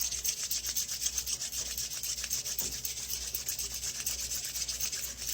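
Cushion Grip denture adhesive rubbed between fingers into a long thin strip, a steady soft rubbing and smearing sound, close and fairly clear, continuing without pause and with no talking.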